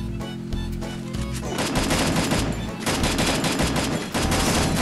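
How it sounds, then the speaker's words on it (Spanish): Rapid automatic bursts of M4 rifle fire in the Free Fire battle royale game, loud and sustained over several seconds with brief gaps, backed by game music and sound effects. "¡Le disparo! ¡Qué poco quita la M4!"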